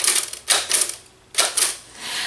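Keys strike on a We R Memory Keepers Typecast typewriter, sharp close clacks in quick clusters separated by short pauses.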